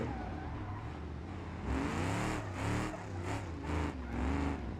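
A BeamNG video game car engine with its exhaust removed drones, then revs up and down in repeated surges, loud and raw.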